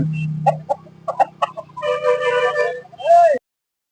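Roosters at a Sunday poultry market in Peleru give short clucks and a rising call, scattered over a steady low hum, with someone talking nearby.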